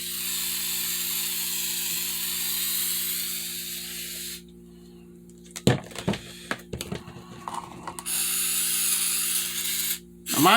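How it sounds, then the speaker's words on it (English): Aerosol can of black Flex Seal spraying inside a Judge Dredd helmet, long loud hissing bursts close by, broken by a quieter stretch of clicking and rattling from the can before the spray resumes. "I'm spraying the inside of this thing with black Flex Seal"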